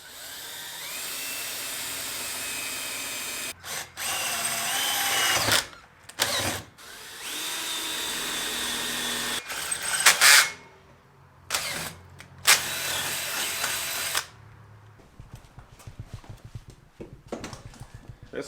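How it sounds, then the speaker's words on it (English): A power drill whirs in several bursts, speeding up and stopping between holes drilled into a boat, with clicks and handling noises in the pauses and near the end. "Ty's going to drill some holes here to mount it to the boat"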